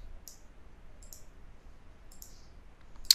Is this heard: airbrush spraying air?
no